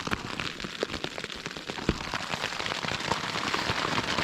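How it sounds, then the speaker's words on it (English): Hail patters steadily on the outside of a touring camping setup on a wet Easter Monday, a dense, fairly quiet crackle of many small impacts with occasional sharper ticks. "Oh, it's hailing actually."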